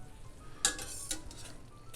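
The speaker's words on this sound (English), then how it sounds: "we're going to finish the pasta in this skillet" Linguine being tossed into a skillet with clam sauce, a low sizzle broken by a couple of sharp clinks and a wet slide as the pasta lands and is moved around, quiet and close.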